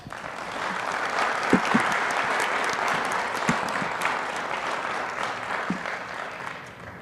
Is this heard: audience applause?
yes